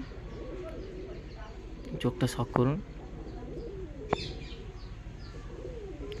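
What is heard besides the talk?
female pigeon cooing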